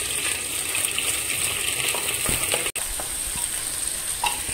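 Sliced onions sizzle loudly in hot oil with peppercorns, the start of a spicy buffalo meat curry, a steady close frying hiss broken only by a momentary gap, with no voices.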